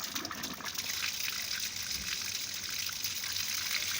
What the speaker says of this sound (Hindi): देखें कितना अच्छा पानी आता है